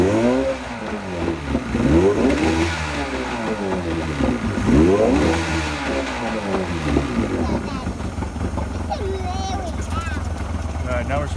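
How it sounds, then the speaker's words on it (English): An outboard boat motor running on a Seafoam decarbonizing treatment, revving loudly up and down in several surges before settling into a steady, rough drone. "We're going to rev it up a little bit to make sure to get through both jets"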